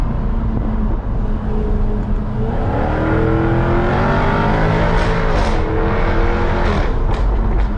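A 2017 Jaguar F-Type R AWD with a 550 hp engine accelerates hard in first gear in manual mode. The engine note climbs steadily in pitch and stays loud and close for the whole stretch.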